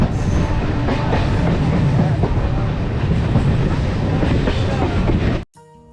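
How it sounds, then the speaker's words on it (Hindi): A passenger train travelling back to Sealdah railway station in Kolkata rumbles steadily and loudly up close for several seconds before the sound cuts off abruptly. "हमने वापस से सियालदह के लिए ट्रेन पकड़ लिया है"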